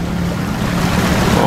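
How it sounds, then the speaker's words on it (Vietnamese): Fishing trawlers off Vũng Tàu motoring in toward shore, heard as a steady low engine drone mixed with loud wind buffeting and rushing water, no voices. "Ở đây từ siêu cũng thấy một cặp ghe nó đang chạy vô."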